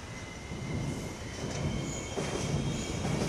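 A train rolls past a station platform with a steady, loud rumble of wheels and carriages, steel wheels squealing faintly over the top, filling the whole stretch without any voices.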